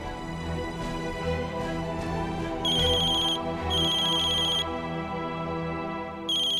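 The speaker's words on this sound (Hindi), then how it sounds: "कल्याणी का फोन।" A phone ringtone plays in repeated high chiming bursts over a steady background of music.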